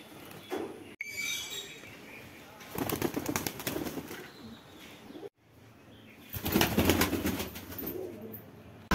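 Giribaz pigeons at a home loft coo and flap their wings, with bursts of fluttering wingbeats and soft coos coming and going close by.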